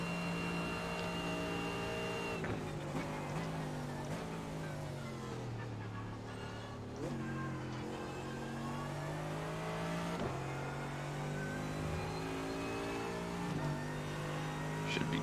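GT3 race car engines roar continuously at Daytona in the iRacing sim, revving steadily with repeated gear-shift dips and rises, loud and dense throughout.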